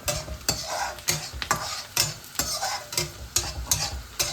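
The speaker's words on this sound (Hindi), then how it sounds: "लेकिन अभी हम लोग प्याज को अच्छी तरीके से भून रहे हैं।" Onions fry in oil in a home kitchen pan, with a continuous close sizzle broken by sharp, regular scrapes of a stirring spoon, roughly twice a second, and no voices.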